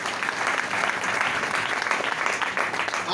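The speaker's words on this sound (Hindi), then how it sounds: "तो मैं चाहूंगा मलिक सर के लिए भी जोरदार ताली बजाए।" Audience applause for Malik sir at a motivational gathering, a steady, dense wash of many hands clapping together for a few seconds without a break.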